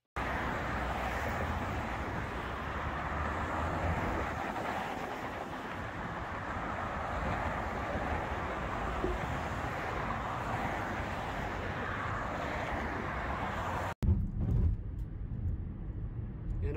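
A car drives home on the road with steady road and tire roar heard from inside, loud and continuous, cut off briefly near the end before the noise resumes.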